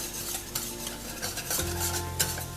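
A spoon stirs a thickening, boiling béchamel-style sauce seasoned with salt and nutmeg in a pot, scraping steadily and continuously with faint clinks against the metal. There is no talking.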